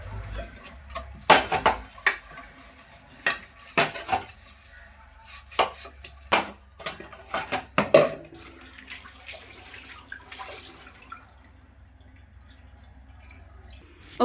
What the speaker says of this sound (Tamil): பாத்திரம் எல்லாம் கழுவியாச்சு